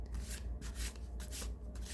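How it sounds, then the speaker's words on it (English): Tarot card deck being shuffled close up, a soft continuous papery rubbing and riffling for about two seconds, quiet and without speech. "we'll shuffle this one and see if anything comes out."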